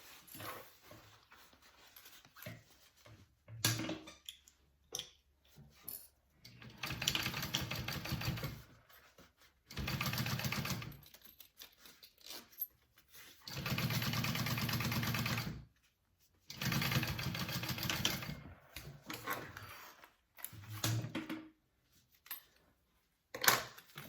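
Sewing machine running in bursts while top stitching a handbag, several stretches of steady stitching a few seconds each separated by pauses, close and fairly loud, with faint handling noises between runs.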